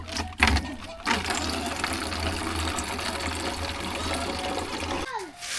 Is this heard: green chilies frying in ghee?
no